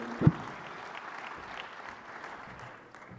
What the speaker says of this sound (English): Let's give them another round of applause, ladies and gentlemen.